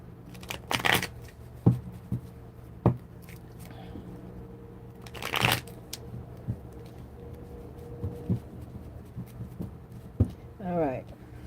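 Two mixed tarot decks are shuffled by hand in bursts of riffling and card slaps, close and fairly quiet, spaced by pauses.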